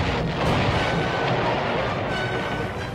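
Naval destroyers trading light gunfire at sea in a First World War battle, heard as a continuous loud rumble of distant booms and blasts with no clear separate shots.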